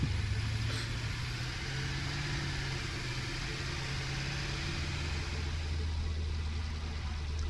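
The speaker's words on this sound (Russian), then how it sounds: "Итак, мы драйв трактор. Погнали." A tractor engine drones in the video game Satisfactory, a steady low rumble with a shifting pitch that runs continuously at moderate level without pause.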